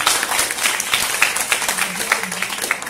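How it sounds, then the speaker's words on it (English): Enthusiastic applause from an audience at a school communication roadshow, dense and steady clapping close by, with scattered voices and cheering mixed in. "Please give a round of applause to our judges"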